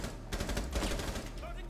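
Rapid automatic gunfire in a shooter game, a dense fast rattle of shots over a second or so, close and steady.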